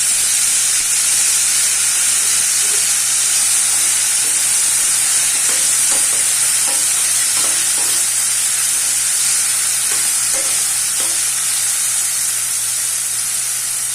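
Tomato and green chillies fry in a pan with a loud, steady hiss and sizzle up close, with soft spatters and stirring taps in the middle. A low constant hum runs underneath, and no one speaks.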